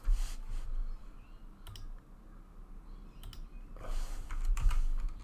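An answer is typed on a computer keyboard in quick clusters of close, crisp key clicks, with a short pause in the middle before a denser flurry.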